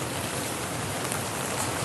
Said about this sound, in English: it is raining like heck